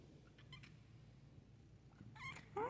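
A pet cat gives a few short meows indoors, faint and then louder toward the end, over a quiet low room hum with no one speaking.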